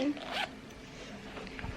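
A zipper on a flamingo notebook or pencil case is pulled in a quick rasping burst, followed by light handling noise at close range, with soft talk.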